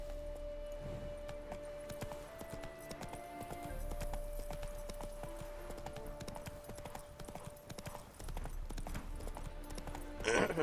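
Hoofbeats of Roach, the horse in The Witcher 3, clip-clop steadily and close in a game world, with a tonal music bed and a brief whinny-like flourish near the end.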